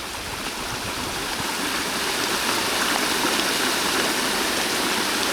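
Rainwater runs downhill beside a rock wall and backs up, making a loud, continuous rushing roar that stays even and unbroken throughout.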